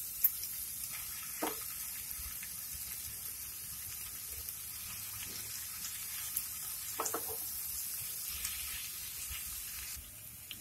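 Chopped garlic and boiled carbonara pasta fry in a pan with a steady, soft sizzle, broken by a few faint clicks and stirring taps.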